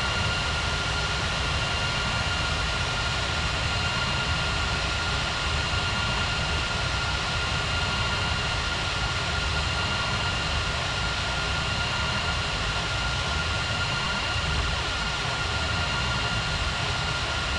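Airliner jet engines at Ngurah Rai airport in Bali in a realistic air traffic control game, a loud, steady roar with a constant whine, sustained without a break.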